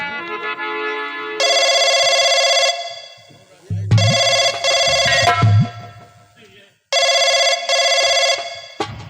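A telephone rings in loud electronic bursts that start and stop repeatedly, with stretches of talking between the rings.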